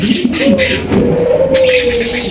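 Pigeons coo in low, repeated rolling calls, close and steady, among birds offered for sale including Spanish gorgorio pigeons.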